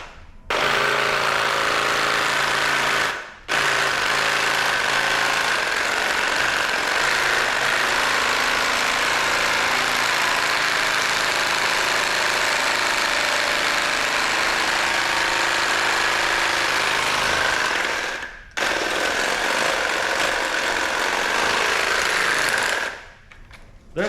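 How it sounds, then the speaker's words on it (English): A paint shaker machine rattles a can of spray foam insulation in a loud, steady, continuous vibrating roar, cutting out briefly twice before resuming, heard close up with no talking. "That should be 30 seconds worth of paint shaking"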